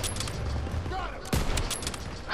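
Call of Duty WWII campaign battle gunfire, a steady clatter of rifle and machine-gun shots with one louder nearby blast midway, under faint voices.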